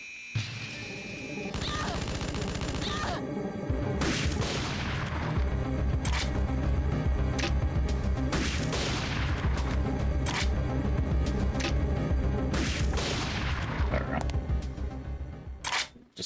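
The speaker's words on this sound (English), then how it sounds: "I'm gonna start with the grenade launcher." A grenade launcher in Parasite Eve 2 fires repeatedly, sending several heavy booming blasts and crashing impacts over a continuous loud game soundscape, with irregular spacing between shots.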